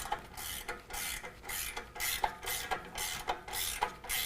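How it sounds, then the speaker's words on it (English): A 15 mm wrench tightens the driver's side rear tailpipe bolt of a Flowmaster Force II exhaust, giving faint, regular ratcheting clicks and scraping strokes roughly every half second, close up and alone. "Now I can tighten down my driver's side rear tailpipe piece."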